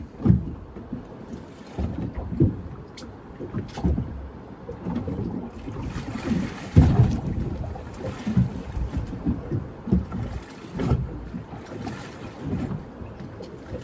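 Steady wind gusting across open water around a small fishing boat off Moreton Island, blowing about 10 knots southwesterly, with broadband rushing noise, mic buffeting and lapping water throughout, no talk.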